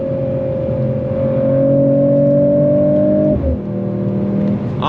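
A 2025 Mercedes-AMG CLE 53 coupe accelerates hard under throttle, its engine note climbing steadily and loudly, with a quick drop at an upshift before pulling again, heard from inside the car.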